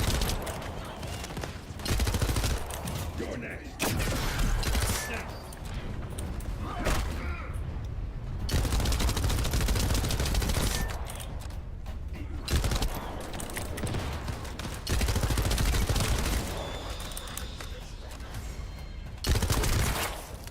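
Rapid bursts of submachine gun fire in a video game, loud and continuous, broken by brief pauses between long sprays amid a busy combat soundscape.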